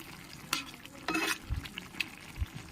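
A fried hilsa fish head is stirred in a pan, with several scraping strokes and soft knocks of a spatula over a quiet sizzle, fairly faint and close, no voices.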